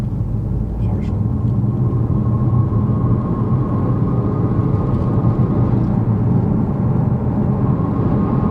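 A Ford Focus RS engine drones at low revs under partial throttle in second gear, a loud, steady low rumble heard from inside the car.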